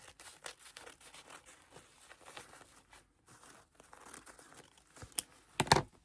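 A paper napkin torn by hand into a piece for scrapbooking, with soft close crinkles and rustles throughout and a few sharper tearing rips near the end.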